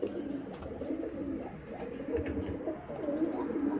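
Pigeons cooing in a loft, a female among them, low soft repeated coos overlapping continuously at close range with a faint rustle and low background hum.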